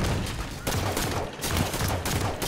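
Continuous heavy gunfire in Halo 5: Guardians, loud and dense bursts of rapid shots with brief dips between volleys, no talk over it.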